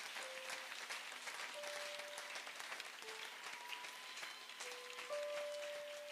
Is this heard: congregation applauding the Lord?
yes